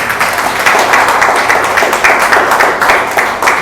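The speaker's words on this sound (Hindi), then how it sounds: "आइए जोरदार ताली से हम धन्यवाद करते हैं।" A large audience claps hard and steadily at a church gathering, a dense close wash of hand claps filling the whole moment with no pause.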